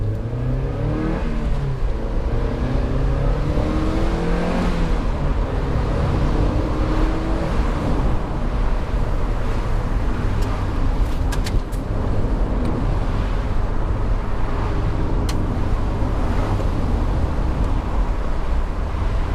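A Mazda Miata NB drives on an English road, heard from inside as a steady engine drone with broadband road and wind roar, the engine note rising and falling with occasional shifts.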